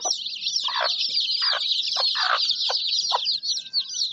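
Desi gavthi chicks and hens at a poultry farm make a dense, continuous chorus of high peeping with intermittent lower clucks, close and lively, with no talking.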